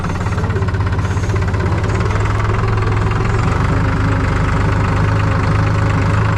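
A tractor engine runs after a gear change, a loud, close, continuous diesel chug with an even throbbing idle that stays steady throughout, no speech.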